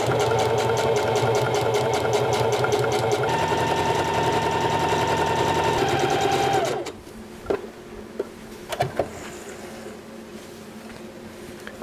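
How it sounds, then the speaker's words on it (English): A sewing machine runs fast and continuously while sewing a tie seam, then stops abruptly partway through, leaving quiet handling clicks and small knocks. "We're gonna go ahead and get that sewn up, and then we'll work on the ends of it."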